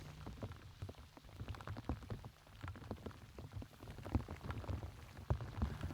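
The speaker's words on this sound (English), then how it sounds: "the rain's really started to come down now" Rain patters on surfaces beside a Welsh upland lake, Llyn Bugeilyn, during fly fishing, a faint, dense spatter of droplets ticking continuously up close.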